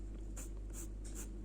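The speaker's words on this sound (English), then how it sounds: "You don't want to finish with a marker, you want to finish your hair with a pencil." A brown colour pencil strokes hair onto paper in a fashion drawing, making soft scratchy strokes in an irregular rhythm, faint and close over a low steady hum.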